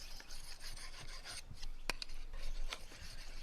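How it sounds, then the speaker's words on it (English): A knife blade is drawn across the fine side of a whetstone outdoors, giving soft, steady rasping strokes that are quiet and close, with a few sharper scrapes and no talk. "I turn the stone over to the fine side and polish the edge with this side of the stone in exactly the same way"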